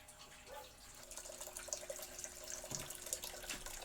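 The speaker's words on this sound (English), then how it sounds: "I am then going to start sparging and drain into the boil kettle." Homebrew wort drains into a boil kettle during sparging, a continuous soft running-liquid stream with faint trickles and drips throughout, fairly quiet and without voices.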